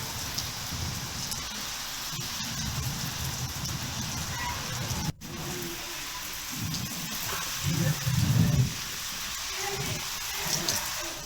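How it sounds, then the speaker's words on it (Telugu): Steady heavy rain pours throughout in Telangana, with low rumbling swells of distant thunder and gusty wind; no voices. "ఈదురుగాలులతో కూడిన భారీ వర్షం పడింది"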